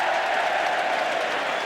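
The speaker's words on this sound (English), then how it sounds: "Ironic cheer from this vast crowd here at Oxford Stadium." A large stadium crowd at a Super League rugby league match at Odsal, Bradford, lets out a loud, sustained cheer that fills the whole moment with a dense, steady roar.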